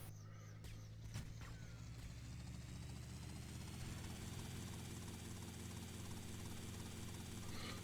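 Helicopter flying steadily in a video game, a continuous rotor and engine drone holding at an even level throughout, with a brief burst of other game noise near the start.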